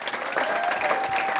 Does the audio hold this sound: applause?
yes